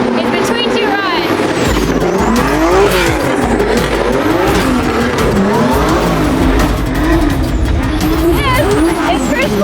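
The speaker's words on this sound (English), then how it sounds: "This is Chris Forsberg's all-new Nissan Z." A 2023 Nissan Z drifting: loud, steady engine revving that rises and falls in waves, with tire squeal over it throughout, close by.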